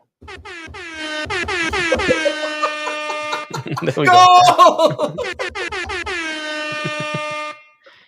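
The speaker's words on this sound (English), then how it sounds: "I think we need the air horn." Loud blaring air horn blasts, several long honks that waver and overlap, while people shout briefly and laugh nearby.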